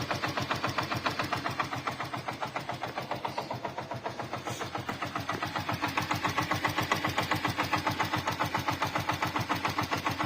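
A Hero Glamour motorcycle engine runs with an abnormal noise, a steady, rapid, pulsing thud with a faint knocking rattle on top, close and continuous throughout, with no talking.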